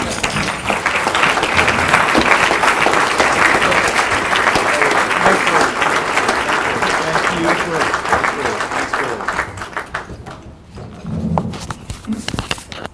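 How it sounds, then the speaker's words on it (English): Loud, dense applause fills the room at an annual awards luncheon as an Employee of the Year is honored, holding steady for about ten seconds before tapering off, with voices and a few lingering claps near the end. "Please join me in applauding Barry Graham as our Employee of the Year."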